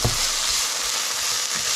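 Tomato paste sizzling in oil in a pan for chili sauce, giving a steady, close, loud frying hiss with no pause.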